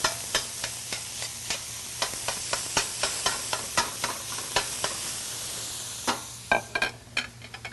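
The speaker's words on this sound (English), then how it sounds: "We're going to add this, and we're going to break it up and have it start browning" A mix of ground beef, pork and veal browns in a hot pan as a spatula breaks it up, giving steady sizzling broken by repeated sharp scraping taps that grow busier toward the end.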